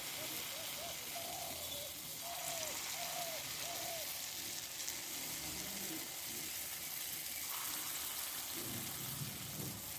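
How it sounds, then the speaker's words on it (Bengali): Pumpkin fritter batter fries in hot oil, giving a steady, dense sizzle that runs throughout at a moderate, even level, with no talking. "দেখো তেলটা ওদিকে গরম হয়ে গেছে আমার ময়দাটা ফেটিয়ে নিয়েছে ভালো করে এবার আমি পরপর ছাড়তে থাকবো"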